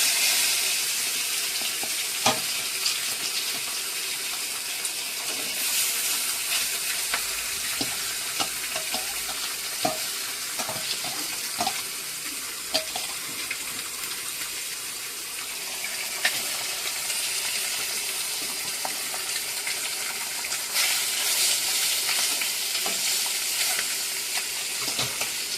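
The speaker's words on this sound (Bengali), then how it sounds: "এবার কাতলা মাছের পেটিগুলো ভাজবো।" Pieces of catla fish belly, taken from the fridge, fry in hot oil in a kitchen pan: a loud, continuous crackling sizzle with sharp pops and occasional stirring clicks, no voices.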